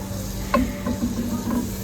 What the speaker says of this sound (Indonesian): Nah, ini saya goreng